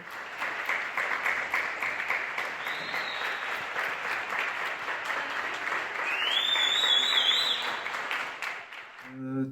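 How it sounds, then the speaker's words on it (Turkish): Neighbours applaud from their balconies across a Madrid street during the coronavirus lockdown. Dense, sustained clapping echoes between buildings and swells slightly near the end, with a shrill whistle cutting through in the final seconds. "her akşam saat 8'de herkes balkona çıkarak birbirine moral vermek için alkış tutuyorlar"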